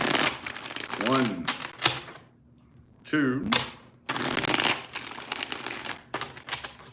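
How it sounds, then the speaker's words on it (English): A deck of tarot cards is shuffled in several quick riffling bursts, close by, while a person counts aloud between them. "3 more shuffles here."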